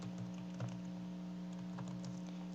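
A computer keyboard is typed on softly in short bursts of light key clicks, faint and close over a steady electrical hum, with no speech.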